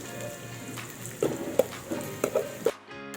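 Leftover cooked rice frying in a pan of golden garlic for Filipino sinangag, a soft steady sizzle with several sharp pops and crackles, close and fairly quiet, then cut off abruptly.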